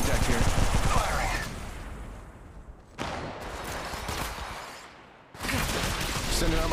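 Gunfire in the mobile shooter game Apex Legends Mobile, with dense rapid bursts of automatic fire that come in loud sections broken by abrupt cuts, under character voice lines.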